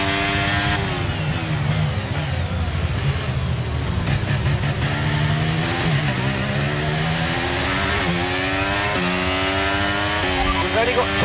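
An F1 car engine screams through gear changes while racing in the video game F1 23, loud and continuous with rising and falling pitch, and a voice speaks over it.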